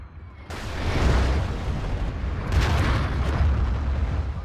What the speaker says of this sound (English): I think it's double arty, Johnny.